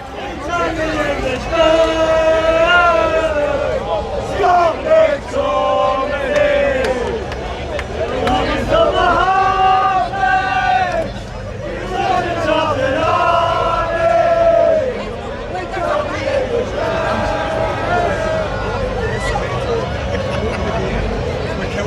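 Scottish football fans sing and chant together in a large, loud crowd, their sustained melodic chanting rising and falling in waves with rowdy shouts and babble mixed throughout.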